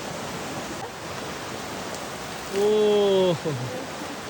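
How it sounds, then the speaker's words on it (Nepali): A cold stream on a forest hike near Kathmandu rushes in a steady, close wash of noise, and a voice briefly calls out over it near the end. "चिसो खोला"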